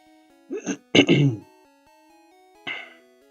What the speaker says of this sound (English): Sorry for my coughs.